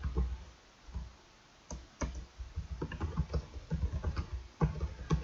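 Computer keyboard keys clacking in irregular bursts as Java code is typed, close and clear, with short pauses between runs of keystrokes.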